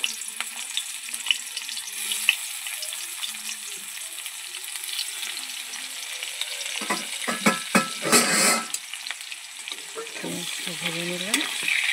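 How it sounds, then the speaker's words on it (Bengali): Chopped onions fry in oil left over from frying chela fish, with a steady hiss of sizzling and bursts of stirring and scraping toward the end. "মাছ ভেজেছিলাম সেই তেলেতেই পেঁয়াজ কুচি দিয়ে দিলাম"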